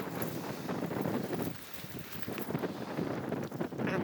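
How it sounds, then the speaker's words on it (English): Wind blows across an open campsite while a Hilleberg Nallo 2 tunnel tent is being pitched, a loud steady buffeting rush on the microphone with a brief lull midway and faint rustling and handling noises. "the wind at ground level is a lot less"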